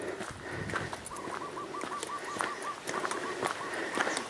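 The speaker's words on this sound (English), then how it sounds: "among the birds and the wind rustling through some of those trees" Birds call outdoors in a rural area of the Philippines, with a repeated cooing series in the middle and scattered chirps, set against a steady broadband rush of wind moving through trees, moderately distant and fairly faint.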